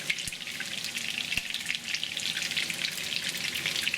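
Food fries in an Ikea pan on an induction hob, a close, continuous crackling sizzle with a couple of faint knocks and no talking.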